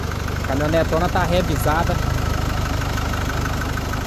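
A 2010 Nissan Frontier manual 4x4 double-cab diesel pickup idles with a steady, close, low rumble while someone speaks briefly over it.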